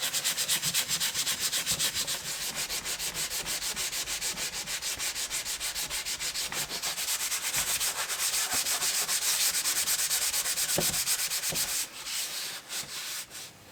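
Continuous gritty scrubbing on a carbon steel frying pan coated with a baking soda and white vinegar paste, rapid rhythmic rubbing strokes, close and steady for over ten seconds with no talking.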